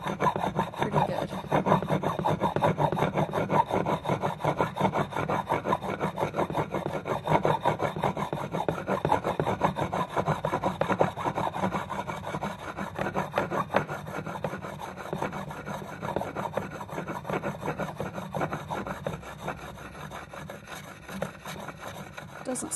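A metal organ pipe is scrubbed hard to clear oxides before soldering, giving close, steady, rhythmic rasping strokes that carry on without pause and ease slightly toward the end.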